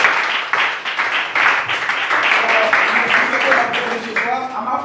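A church congregation applauds and acclaims Jesus, loud sustained clapping in a hall mixed with raised voices and cheering throughout.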